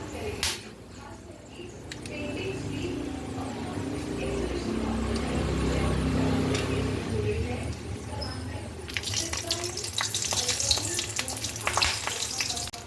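Dried red chillies, cardamom pods and whole garam masala frying in hot oil for a paneer bhurji base, a steady close sizzle that swells midway and turns crackly toward the end, with a voice talking over it.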